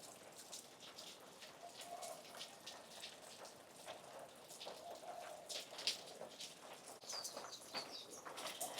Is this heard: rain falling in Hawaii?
yes